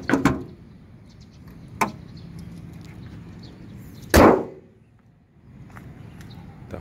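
A used car's fuel filler door is pushed shut with one sharp, close snap, set among a few lighter clicks and taps against a quiet background.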